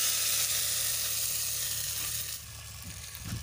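Onion and dal frying in hot oil make a loud, close sizzle that hisses steadily, then drops a little in level toward the end as a few stirring clinks come in.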